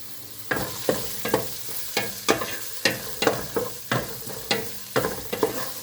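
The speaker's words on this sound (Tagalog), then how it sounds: "So igisa natin yung slice natin na ginger." Sliced ginger sautés for a Filipino mung bean soup, the pan sizzling steadily while a utensil scrapes and stirs in about a dozen regular, loud strokes, with no talking over it.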